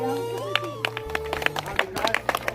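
Students at a school farewell ceremony in Rajasthan clap for a pupil, a brief burst of scattered hand claps mixed with talking voices and a steady tonal hum nearby.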